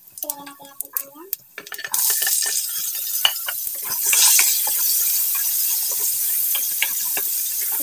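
Garlic and onion frying in a pan with a continuous sizzle that swells as the onion goes in, broken by scraping stirs and light utensil taps against the cookware, with a voice speaking briefly at the start.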